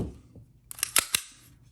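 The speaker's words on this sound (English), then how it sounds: "we'll eject this mag and I'll show you" A Sig P322 pistol magazine is ejected, giving a cluster of three or four sharp metallic clicks and clacks in quick succession, close by and without talk.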